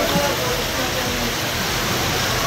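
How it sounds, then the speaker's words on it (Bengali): Water falling near a river in Katra, a loud, steady broadband rush with a faint voice underneath. "এটাও দেখো কীভাবে জলটা পড়ছে।"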